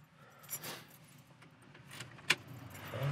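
Car keys jangle inside a 1969 Ford Mustang Mach 1, a few light metallic shakes and one sharp clink, close and fairly quiet, with no talking.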